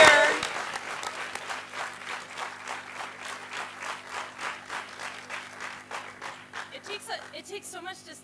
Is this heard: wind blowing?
no